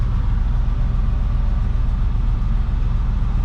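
A Plymouth Duster engine idling roughly and close to stalling, a loud, steady low rumble with an uneven, lumpy pulse throughout.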